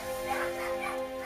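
Adult Staffordshire Bull Terrier dogs and puppies whimper and yip during a vet examination, with brief, high whining cries up close over a steady background hum.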